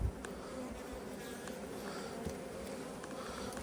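Dense, steady buzzing of a mass of honeybees from an opened hive during an inspection, a continuous close hum filling the whole stretch without speech.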